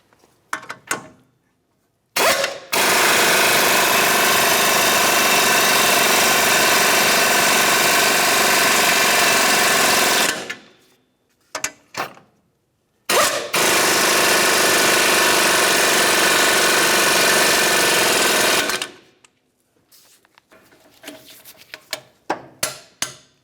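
A power tool snugs the 24mm control arm mounting nuts on a 2009-2019 Ford Flex, running in two long, loud, sustained bursts separated by brief pauses, with short clicks and blips of shop noise between them.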